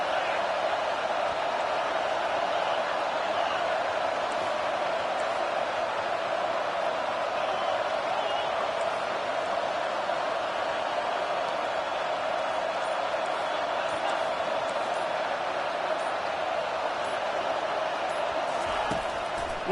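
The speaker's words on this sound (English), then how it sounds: "Decibels rising as the crowd gets behind this defense on 3rd down." A football stadium crowd at an LSU at Michigan game roars steadily on third down, a dense, sustained wall of noise with no breaks across the whole stretch.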